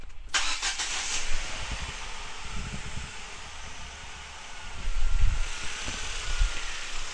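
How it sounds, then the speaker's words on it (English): A car engine cranks and catches, then settles into a quiet running idle with a few bursts of revving, recorded at close range with some wind and no talking. "I'm going to start the engine."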